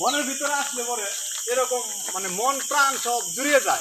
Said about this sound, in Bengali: ঝিঝি পোকা কিন্তু ডাকতেছে ঝিনঝিন ঝিনঝিন করে